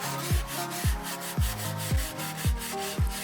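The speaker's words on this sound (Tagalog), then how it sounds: "Lihain yung mga edges nito para maging rounded at magkaroon ng buhay ang ating rack." Scrap wood pieces for a wine rack are hand-sanded along their edges to round them, a rhythmic series of about seven close rasping strokes, each a short scratchy rub.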